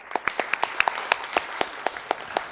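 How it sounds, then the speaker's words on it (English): A small audience at a foreign-policy panel event claps for the speakers: sparse, distinct individual hand claps in an uneven rhythm, close and fairly light, with no talk over them. "Let's give them a round of applause."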